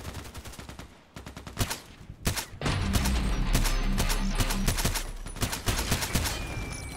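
An SKS rifle in a sniper game fires in quick successive shots, a sharp crack every fraction of a second, loud and close, with a brief lull before the volley picks up again.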